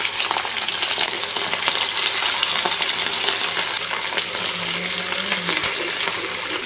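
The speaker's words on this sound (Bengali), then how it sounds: "এখন আমি এক এক পিস মাছ কড়াই তেলের মধ্যে ছাড়বো।" Pieces of rohu fish fry in hot mustard oil in a wok, giving a steady, loud, continuous sizzle with occasional crackles and no talking.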